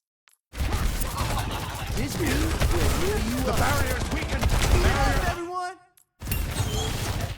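Rapid bursts of gunfire from Lucio's weapon in Overwatch 2 ring out loud and dense amid busy game effects, then cut out briefly before resuming.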